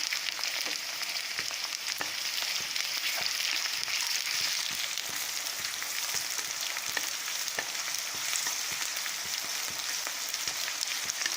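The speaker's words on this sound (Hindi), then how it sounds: "और ये बारीक कटा प्याज डाल देंगे। इसको हिलाएंगे।" Finely chopped onion fries and sizzles steadily in a pan for a veg chowmein, with occasional clinks and scrapes of stirring over a constant hiss, close and moderately loud, no talking.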